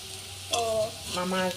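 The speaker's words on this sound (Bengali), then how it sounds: "এই যে পাঁপড় ভাজা করলাম, বড়া করতেছি" Papad and bora fritters crackle in hot oil, a soft continuous sizzle under faint voices or background tones that rise and fall through the short stretch.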